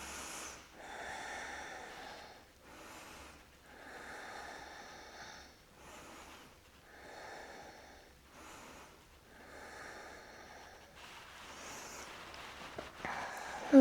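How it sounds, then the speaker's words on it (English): Slow, deep breathing from a yoga practitioner holding a pose in a hatha flow, with long audible inhales and exhales repeating in an even rhythm, close and soft, with no speech. "Just a few more breaths here."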